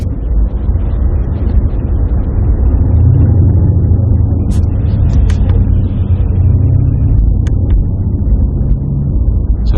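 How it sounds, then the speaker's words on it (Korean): A BMW M760Li xDrive luxury sedan's V12 engine revs and climbs in pitch with a smooth, continuous rumble, loud and close, with no voices. "두두두두두두 하고 올라가는 그 소리가 어, 평소에 듣지 못하던 그 소리라 야 엔진 사운드가 이렇게 아름다울 수 있구나"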